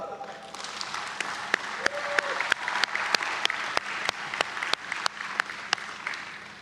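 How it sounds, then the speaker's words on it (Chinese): Audience applause at a Taiwan National Day ceremony, a steady wash of clapping from a large crowd with sharp individual claps standing out throughout, moderately loud and sustained. "请让我们为彼此大声喝彩。"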